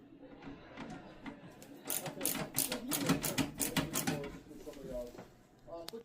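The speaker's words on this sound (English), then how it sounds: "go ahead and start unscrewing" Screws are being backed out of a computer case in a quick ratcheting run of crisp metallic clicks, close and loud in bursts, with a person talking alongside.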